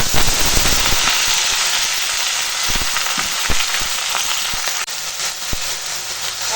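Pumpkin greens fry loudly in a pan with ginger, garlic and green chilli paste, a dense steady sizzle with occasional sharp pops and crackles throughout.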